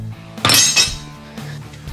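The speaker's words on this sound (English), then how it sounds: "Sometimes claw hammer works even better." Claw hammer striking metal axle parts on a Polaris RZR UTV, one sharp clanging metallic impact with a bright ringing tail, followed by fainter knocks, close and loud.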